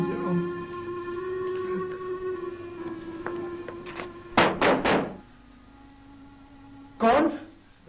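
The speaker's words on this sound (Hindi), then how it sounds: "दरवाजा खोल फकीरे, हमें साईं सलाउद्दीन ने भेजा है।" Knocking on a wooden door in a Pakistani drama scene: a quick burst of three or four sharp raps, a pause, then one more knock, heard over a steady background music drone.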